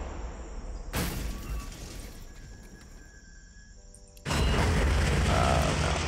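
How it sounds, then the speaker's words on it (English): A mortar round in Warhammer 40,000 Armageddon fires with a sharp boom, a faint whine follows, and a heavy blast lands a few seconds later, louder and sustained. "Mortar for you."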